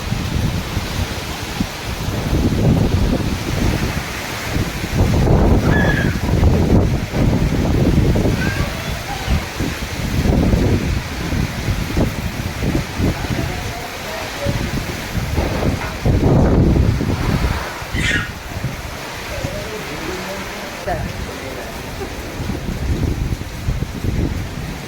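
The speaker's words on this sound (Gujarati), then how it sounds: "પવન સાથે વરસાદ છે, વાવાઝોડું ચાલુ છે એકદમ" A powerful windstorm with rain roars in constant heavy gusts, whipping and shaking the trees, with some voices faintly underneath.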